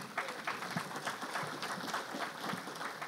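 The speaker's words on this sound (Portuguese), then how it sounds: "Aldo, peço uma salva de palmas para ele." An audience at a satellite industry congress applauds a presenter called to the stage, with steady, moderately loud clapping spread across the room and no talking.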